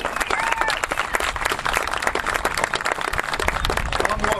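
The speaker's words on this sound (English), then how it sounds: "don't stop applauding now" An outdoor crowd at a falconry show claps steadily, dense applause holding at an even level throughout with no breaks.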